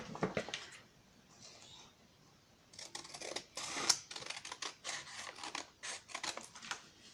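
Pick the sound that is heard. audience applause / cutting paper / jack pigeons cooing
cutting paper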